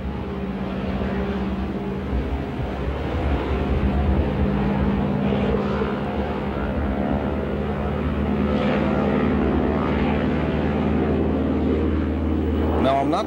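A T-6 aircraft's engine roars at full power for a short-field takeoff with full flaps, a loud, steady, droning propeller rumble from inside the cockpit that builds slightly throughout, with voices talking over it.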